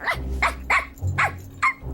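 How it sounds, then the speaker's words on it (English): A cartoon dog barks and growls in several short, loud bursts with rough growling between them, close and clear, with no speech over it. "Yeah, you're a good dog."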